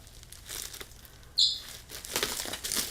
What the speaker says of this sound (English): He is an African gray, and he's crazy.